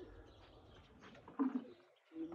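Golden Sharmila pigeon cooing in a few soft, low calls that build in the second half, with faint background noise and a brief quiet gap near the end.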